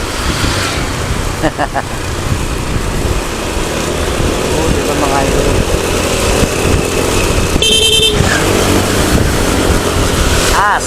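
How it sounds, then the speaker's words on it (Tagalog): A Pacific Rapid car horn honks briefly over loud, steady road traffic and engine noise, with voices talking throughout. "Pacific Rapid Horn."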